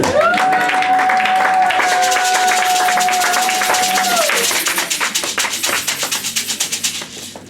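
A church congregation claps and applauds together, loud and dense, over a long sustained tone, before the clapping settles into a steady rhythmic beat toward the end.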